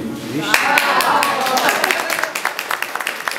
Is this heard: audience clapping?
yes